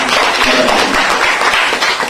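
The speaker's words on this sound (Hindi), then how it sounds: "महामंत्री त्रिपाठी जी मौजूद हैं, जिनका तालियों से स्वागत वंदन" Applause welcoming a guest at a journalists' club Independence Day flag-hoisting event in Kanpur, a loud close continuous clatter of many hands lasting a couple of seconds.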